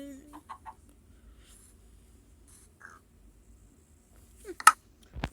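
A chicken clucks in short, sparse bursts over near-silence, ending in a louder squawk-like burst.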